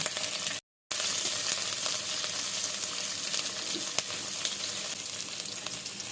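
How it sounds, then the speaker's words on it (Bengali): Onions fry in hot mustard oil with a loud, steady, hissing sizzle, broken by a moment of silence near the start. "তেল গরম হইতে না হইতে পেঁয়াজ ছাড়া দেওয়া গেছে"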